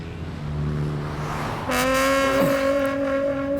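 A new car with air conditioning pulls away, engine rumble building steadily and then rising into a louder, smoother drone as it gets moving, with no voices over it.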